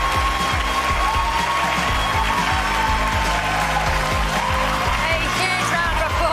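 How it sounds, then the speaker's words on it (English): An awards ceremony audience applauds, a dense, loud, continuous crowd of clapping hands lasting throughout, with faint voices underneath. "A huge round of applause once again for Fernando Cooper."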